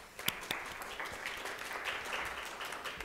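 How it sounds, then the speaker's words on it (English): Conference audience applause, a soft wash of many hands clapping at a distance, fairly quiet and steady for a few seconds. "They deserve a huge round of applause for the hard work they put into imagining and organizing this conference."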